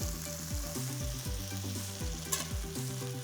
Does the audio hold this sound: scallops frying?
yes